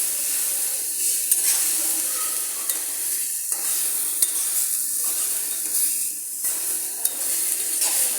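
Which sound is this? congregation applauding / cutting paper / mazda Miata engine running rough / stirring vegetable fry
stirring vegetable fry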